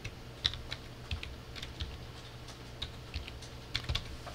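An IP address is typed on a computer keyboard, a quiet run of irregular close key clicks with brief pauses between strokes and no voices.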